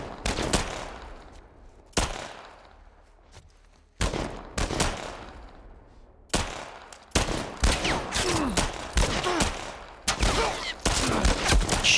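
Gunfire crackles through a shootout in The Last of Us, sharp bursts of shots arriving in irregular clusters, some near and loud, with brief lulls between volleys.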